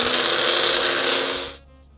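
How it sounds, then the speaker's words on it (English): A blender whirs loudly, grinding ginger, turmeric and salt for satay, a close, steady high-pitched motor roar that cuts off abruptly, leaving a low hum. "we're gonna get this blended"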